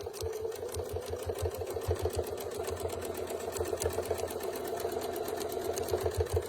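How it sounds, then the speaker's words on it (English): Close, steady rapid stitching of a domestic sewing machine quilting a paisley feather design with a Westalee quilting template, its motor running continuously with a fast even chatter and no talking. "So I'll go ahead, I'll sew that in."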